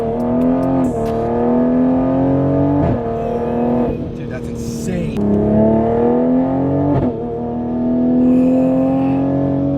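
A Toyota Supra with a Pure800 turbo upgrade on its B58 engine pulls hard under acceleration, its exhaust droning loud and steady with rising pitch through several gear changes, each shift marked by a brief dip.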